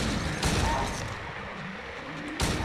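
Gunshots from Silent Hill 2, two sharp broadband cracks about two seconds apart over a busy background of game noise and sounds.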